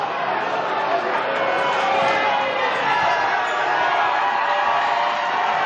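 A high school gym crowd at a Utah boys basketball game between Spanish Fork and Timpview makes a continuous loud roar of chatter and cheering that stays level throughout.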